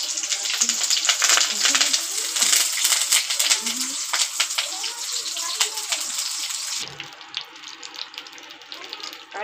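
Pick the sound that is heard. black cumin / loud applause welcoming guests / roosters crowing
black cumin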